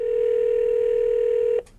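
A steady electronic telephone tone on a customer service 800-number line holds loud and unbroken for about a second and a half, then cuts off abruptly into near silence.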